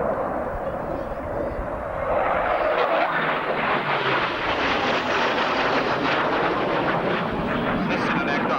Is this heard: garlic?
no